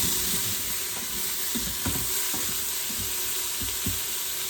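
Vegetables sweating and sizzling in oil for a slow cooker beef stew, a steady close sizzle with scattered soft clicks and scrapes of stirring, no voices.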